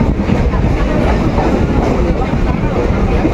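A suburban train rolls into Dum Dum Cantonment station, a loud, close, continuous rumble and rattle of the carriage with muffled voices mixed in.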